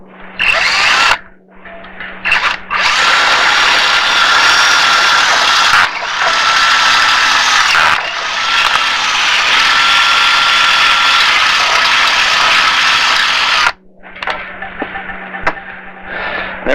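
A power drill enlarging the valve hole in a bicycle rim for a Presta-to-Schrader conversion, loud whining bursts of several seconds each, separated by brief pauses, close up.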